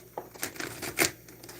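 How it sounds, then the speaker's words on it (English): Tarot cards being shuffled by hand near candles, a short run of soft papery riffles and flicks with one sharper burst, close and quiet. "or at least hear me shuffle."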